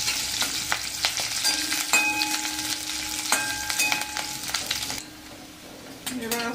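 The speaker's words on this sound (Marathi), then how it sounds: "आपण हा कांदा घालून घेऊ थोडासा फ्राय करायचा याला असं तेलामध्ये।" Chopped onion frying in hot oil after mustard seeds, for a capsicum curry: a steady loud crackling sizzle with scattered pops and utensil clinks, no talk.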